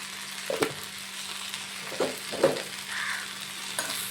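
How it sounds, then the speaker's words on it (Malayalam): Ivy gourd frying with turmeric and chili powder is stirred in a pan, a soft low sizzle broken by a few brief scraping strokes of the spoon. "നല്ലതുപോലെ ഒന്ന് ഇളക്കുക ഇളക്കി യോജിപ്പിക്കണം"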